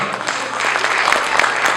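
An audience at a Pongal 2025 pattimandram stage debate claps steadily, a dense, even wash of applause filling the whole short moment.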